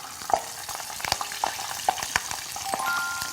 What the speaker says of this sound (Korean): 고추를 튀기는 것도 제가 또 처음 보거든요